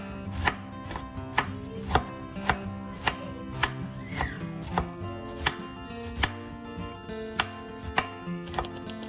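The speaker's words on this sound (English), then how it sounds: "Once you're done chopping your cabbage," A knife chops a cabbage into long strips on a cutting board, with close, crisp thuds landing in a steady rhythm of about one strike every half second and no talk.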